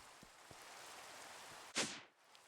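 Steady rain hisses in Minecraft as a soft, even wash of noise, broken by a few faint ticks and one brief louder whooshing burst near the end.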